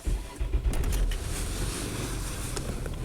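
Engine of a 1997 Nissan Maxima cranking and catching, then settling into a rough, uneven idle, a close low rumble with irregular pulses and broadband hiss.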